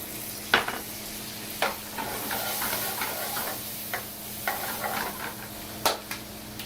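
Red pepper and diced tomato sizzle steadily in a hot pan for a shrimp dish, with a few sharp clicks of a utensil against the pan and no talking.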